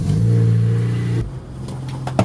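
A Honda RSX on coilovers drives off around the block, its engine holding a steady mid-pitched drone that drops at a gear change, then settles into a lower hum with a few sharp knocks near the end.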